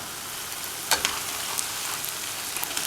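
Steady bubbling sizzle of sweet dumplings (luqaimat) deep frying in hot oil, close up, with small pops and crackles scattered throughout.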